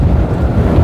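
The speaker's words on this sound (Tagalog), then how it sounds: "Ang lakas ng hangin dito." Strong wind batters the microphone at an open mountain bike race on the Urdaneta bypass road, a loud, low, continuous rumble in this short burst with no voice heard.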